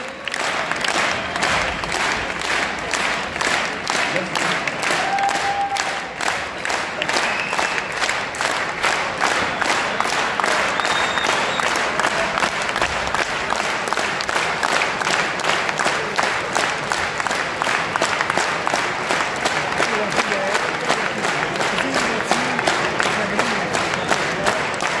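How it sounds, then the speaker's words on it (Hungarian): Rhythmic unison applause from a boxing event crowd, steady beat-by-beat clapping sustained for the full length, loud and close with cheering mixed in. "Hadd kérjek tőletek egy ütemes vastapsot"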